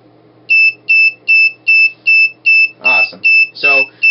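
A rapid series of identical high-pitched electronic beeps from a PIR infrared motion detector circuit kit repeats at a steady pace, about two per second, with a couple of brief vocal sounds mixed in.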